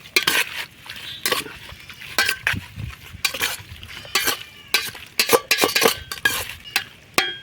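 Ingredients for chicken pitha being mixed together in a bowl in a village kitchen, giving irregular bursts of stirring, scraping and clinking against the bowl, close and fairly loud, with no talk.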